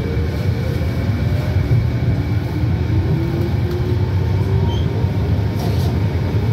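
A train bound for Richmond-Brighouse at King Edward station rumbles steadily with a loud, continuous low roar and faint higher whine, close and unbroken throughout.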